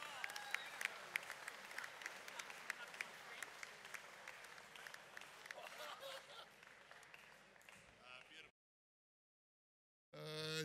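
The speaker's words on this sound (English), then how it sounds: "A big round of applause, ladies and gentlemen, for Freddo Keating." A debate audience claps in a steady, fairly quiet round of applause for several seconds, then it cuts to silence before a voice starts speaking.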